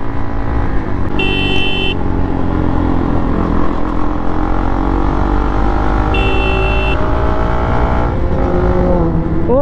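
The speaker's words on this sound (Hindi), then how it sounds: "ये कौन सी गाड़ी गई, कितनी तेज आवाज आई थी" A loud vehicle roars past at night during a ride alongside a Ninja 300, its engine rising over the close, constant drone of the rider's own bike and the wind.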